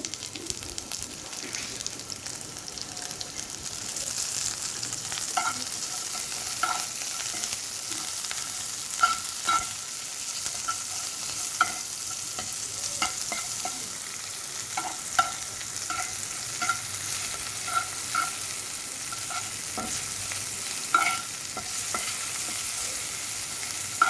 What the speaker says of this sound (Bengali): ক্যাপসিকামগুলো ঘি দিয়ে সম্পূর্ণ ভাজা হয়ে গেলে একটু লাল লাল হয়ে আসলে